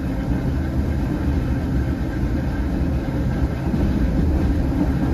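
Irish Rail Class 8100 EMU commuter train running, heard from onboard as a steady, loud low rumble and rolling rail noise with constant motor drone throughout.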